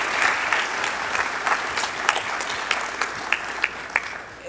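Sustained audience applause at an awards ceremony welcoming an honoree, a steady dense clapping from a crowd with a few sharper individual claps standing out, heard on its own without talk.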